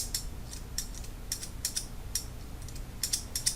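Close-up grooming shears snip and catch repeatedly, producing short scraping, ratcheting clicks in an uneven rhythm against a quiet background.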